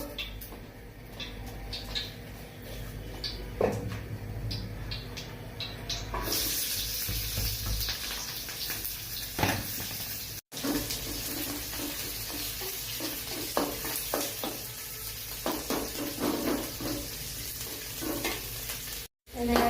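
A vegetable bhaji fries in a pan with loud steady sizzling and frequent stirring scrapes from a spatula, the frying growing louder partway through, with a couple of brief dropouts.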